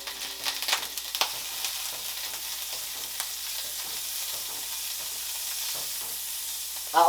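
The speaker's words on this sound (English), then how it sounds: "we're going to render the fat" Wagyu ribeye fat and a piece of butter sizzle in a pan as a soft, even hiss, with a few quick clatters early on and a louder burst at the very end.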